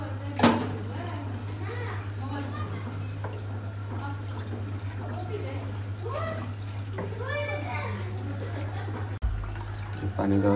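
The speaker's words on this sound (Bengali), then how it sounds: "গরম পানি পরিমাণ মতো দিয়ে দিবে" Hot water is poured into fried pulao rice in a home kitchen. The pour runs faintly under steady talk, with a constant low electrical hum throughout and a brief knock near the end.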